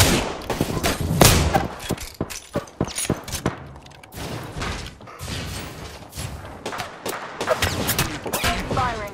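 Rapid bursts of gunfire crack repeatedly in a first-person shooter video game match, loud and close, with clattering mechanical effects and shifting weapon sounds between volleys.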